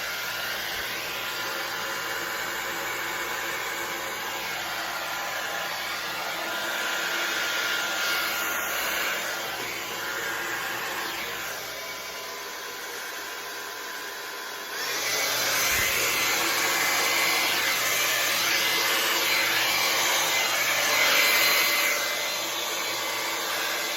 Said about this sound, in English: I've got my hairdryer turned on low, cool